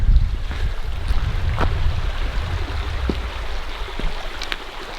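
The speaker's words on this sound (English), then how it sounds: "bubbling little brook" A bubbling little brook flows near a lakeside campsite, a steady, close wash of running water with a few faint clicks and no talk.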